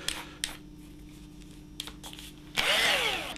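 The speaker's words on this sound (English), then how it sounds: "Be sure not to drill through your hand, and make sure your holes are straight" A drill bores into a rubber mountain bike tire to make holes for screw studs. A short, loud whirring burst comes near the end, after a few soft taps and clicks in a quiet room.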